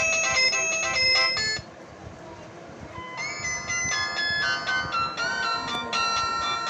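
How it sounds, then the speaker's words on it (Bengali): A Lava A3 feature phone plays its built-in ringtones: loud, bright electronic melodies with tones in quick steps. One tune stops briefly and another begins, with no talking. "কয়েকটা রিংটোন বাজিয়ে দেখে নিচ্ছি।"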